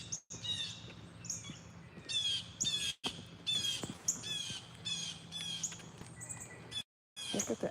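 Several birds squawk and chirp from a tree outdoors, in repeated bright calls that come in quick clusters throughout, fairly close, with steady background hiss and no talking.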